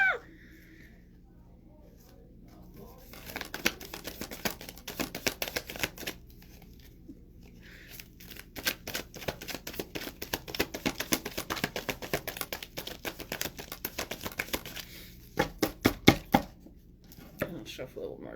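Tarot cards are shuffled in rapid bursts of riffling and flicking, close up, with pauses between bursts and a voice speaking at times.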